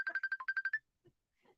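Rapid bright electronic chirps of a Facebook Messenger incoming-call ringtone ring out in a quick run of about ten tones, then stop, leaving faint soft knocks and rustles afterward with no speech.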